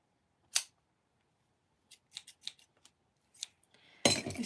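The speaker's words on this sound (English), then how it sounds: "These scissors are really dull. I need to get new crafting scissors, like, really badly." Dull crafting scissors snip through yarn in a quiet room: one sharp snip, a pause, then a cluster of small clicks and cuts, ending in a louder burst of handling noise.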